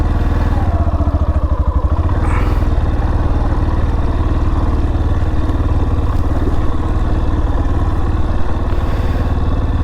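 A motorcycle engine runs loud and close as the bike is loaded onto a boat at Govardhanpur beach, a steady idling chug with some clatter and no clear speech.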